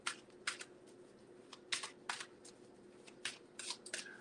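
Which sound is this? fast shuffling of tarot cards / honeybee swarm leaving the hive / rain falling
fast shuffling of tarot cards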